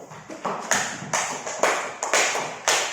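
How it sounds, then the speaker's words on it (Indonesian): A classroom group claps together in a few slow, rhythmic rounds of applause, close and fairly loud, each beat a sharp cluster of hand claps. "tepuk tangan untuk kelompok 1"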